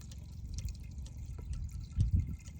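A weak trickle of water from a hose or tap under low water pressure, heard as a faint, low gurgling dribble up close in a garden, steady with a slightly louder splash near the end.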